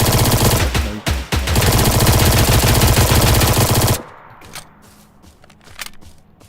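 Loud, sustained machine-gun fire rattles in a video game for about four seconds, then cuts off abruptly, leaving quieter scattered shots and faint game sounds.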